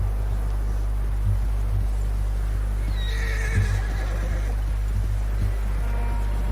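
A horse in Red Dead Redemption 2 gives a clear whinny midway, set against a constant low hum and soft hoof-like thuds, with no speech over it.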